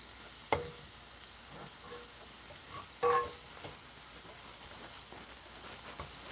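Frozen potatoes fry with bacon in a stone-coated rock pan, making a soft, steady sizzle. A few brief utensil clinks and scrapes break through.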